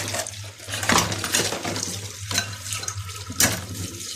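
Tap water runs steadily into a kitchen sink while dishes are washed, with occasional clinks of plates and cutlery against the basin, close and continuous, no talk.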